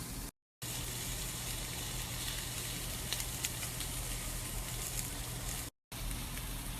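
Meat coated in a dry spice rub sizzles steadily in a cast iron skillet, a continuous close hiss and crackle with a low steady hum underneath, briefly cut out twice.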